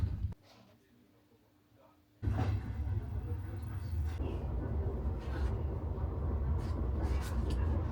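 Inside a moving passenger train in Ukraine, a steady low rumble and rattle of the carriage fills the space after a brief quiet start, continuing at an even level throughout.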